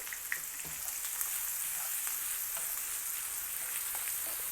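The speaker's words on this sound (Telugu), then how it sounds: "ఇప్పుడు ఇందులో మనం తరిగి పెట్టుకున్న ఉల్లిపాయ ముక్కలు వేసి వేయించుకోవాలి" Chopped onions sizzle in hot oil in a pan while a spinach curry is cooked, a steady hiss with faint light clicks of stirring, fairly quiet and close, no voices.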